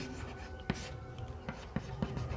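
Chalk or pen writing during a maths lesson on definite integration, heard as several short scratchy strokes, close and fairly faint over a low room background with no talk.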